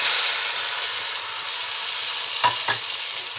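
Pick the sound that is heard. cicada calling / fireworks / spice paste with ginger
spice paste with ginger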